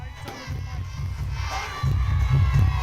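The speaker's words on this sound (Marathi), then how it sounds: "खासदार उदयनराजे भोसले दहीहंडी कार्यक्रमस्थळी ज्यावेळेला दाखल झाले त्यावेळेला समर्थक आणि गोविंदांमध्ये एकच जल्लोष पाहायला मिळाला." A crowd of supporters and Govindas cheering at a Dahi Handi festival, producing a loud, dense roar of voices over a throbbing drumbeat that swells toward the end.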